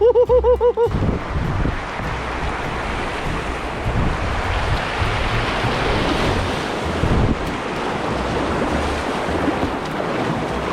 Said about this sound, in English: This is a good stretch of rapids here.